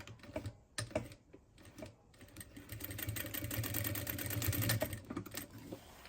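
A sewing machine stitching a second seam on jeans, a rapid close mechanical clatter that starts in short bursts, then runs as a steady, slightly louder stitching stretch.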